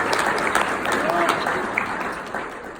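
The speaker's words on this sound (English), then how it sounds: "Give you guys a round of applause for Megan here," Audience applause fills a National Society of Leadership and Success induction ceremony: dense, steady clapping from a crowd, fairly loud and continuous throughout, easing slightly toward the end.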